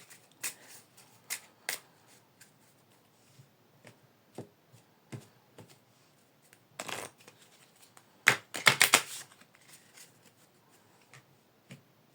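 A Cigano fortune-telling card deck is shuffled in a quiet room, giving scattered crisp riffles and flicks, with a denser burst of rapid card slaps partway through, all close and fairly soft.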